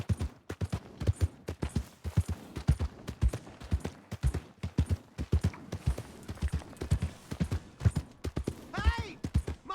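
A horse's hooves clip-clop in the video game Red Dead Redemption 2, a brisk regular rhythm of close, distinct hoofbeats throughout. A short squeal or whinny-like sound rises near the end.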